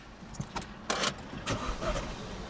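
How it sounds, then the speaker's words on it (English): An Astra VXR engine cranks and fires up with the bonnet raised: a few short mechanical bursts turn into a steady, fairly quiet running rumble heard close by. "If we now go to start the car, got the bonnet still raised"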